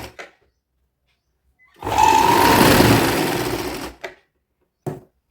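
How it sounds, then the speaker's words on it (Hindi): An electric sewing machine stitches a folded cotton strip in one continuous whirring burst of about two seconds. Short handling clicks come just before and after it. "फोल्ड करके और पलट देंगे, सिलाई लगाएंगे यहाँ पर"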